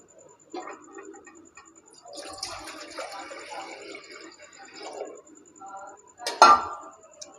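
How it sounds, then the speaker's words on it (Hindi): Water is poured into a cooking pot on a stove for spicy noodles, 3 to 4 cups, a soft splashing with light clinks of metal cookware, ending with a sharper clatter of the pot. "उसमें हम 3 से 4 कप पानी के ऐड कर लेंगे।"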